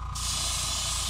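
An airbrush lays hot rod sparkle blue paint onto a crankbait with a steady, close hiss that switches on abruptly after a brief moment and holds constant over a low background hum.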